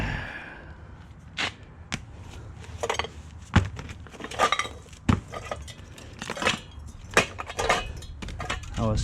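Stainless steel pans clanking and clinking while scrap metal is sorted, a series of sharp metallic knocks and rattles at irregular intervals, fairly close, with no talk over them.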